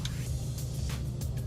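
Lamborghini Urus SE 789 hp plug-in hybrid SUV cruising in sport mode, a low steady engine rumble heard from inside the cabin, faint and continuous with no voices over it.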